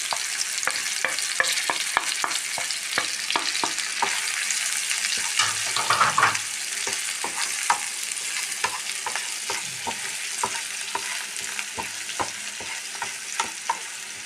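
Turmeric and chili powder fry in hot oil for a potato curry, a steady close sizzle broken by frequent sharp spoon scrapes and knocks against the pan, with no talking.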